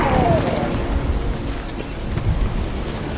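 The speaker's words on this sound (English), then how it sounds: "A magic explosion of some sort." A magical blast in The Witcher 3 rolls out as a deep, booming rumble with a brief falling whistle at the start, then a sustained low roar that lingers for a few seconds.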